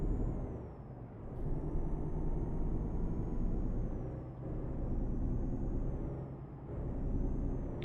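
Truck engine in Euro Truck Simulator 2 pulling through the gears, a steady low rumble that rises, dips at each shift and builds again in three waves, with a faint high whine above and no talk.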